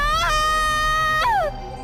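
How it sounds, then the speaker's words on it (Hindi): A woman screams in a horror cartoon, two sharp, high shrieks that each rise and then slide downward, loud and close, with no talking over them. "लेकिन अगले ही पल उसकी बीवी चिल्ला उठी।"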